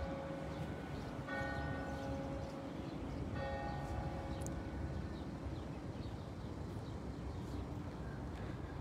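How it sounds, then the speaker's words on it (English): Church bells ring six o'clock peals in the early morning, distant and fairly faint, with clear tonal strikes over steady outdoor background noise. "I love those bells. Can you hear the bells? It's ringing for 6 o'clock"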